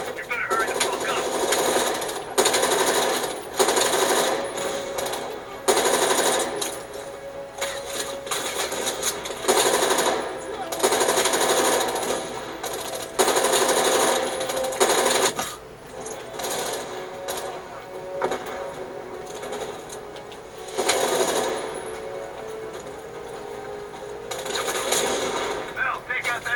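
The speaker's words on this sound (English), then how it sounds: "Heavy MG on the ridge" Heavy machine gun fire in a video game war scene, long loud bursts hammering on and off with brief gaps, voices talking over the shooting.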